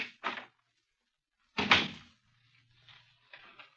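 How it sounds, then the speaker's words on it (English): A door opens in a 1950s radio crime drama set at Scotland Yard's Black Museum, with short creaks and a louder clunk in the middle followed by quiet shuffling. "Behind this door..."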